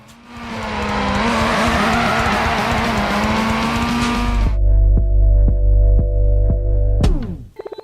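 A car engine in an iPhone racing game roars loudly for about four seconds with a wavering pitch, then cuts abruptly to a pulsing electronic music track.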